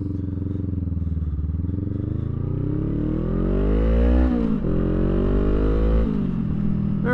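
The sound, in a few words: motorcycle engine revving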